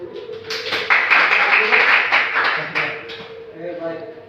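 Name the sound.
classroom applause for group 1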